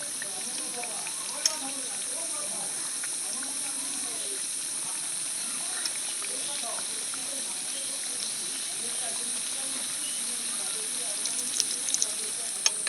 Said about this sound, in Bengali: উল্টে পাল্টে করে ভালো করে ভেজে নিতে হবে যাতে খাস্তা হয়